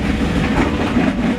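Steady rumble and clatter of a passenger train on the Tazara Railway in Tanzania, heard from inside the carriage as a continuous close, even drone with faint rhythmic clacking and no talk.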